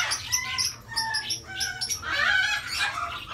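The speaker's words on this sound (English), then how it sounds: "We have canaries, we have parakeets, we have cockatiels," Pet shop birds including canaries, parakeets, cockatiels and conures chirp and tweet continuously, a busy overlapping chorus of bright calls close by.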